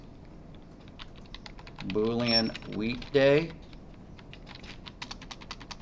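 Typing on a computer keyboard with keys that repeat, steady clicking close by, with a short stretch of speech in the middle.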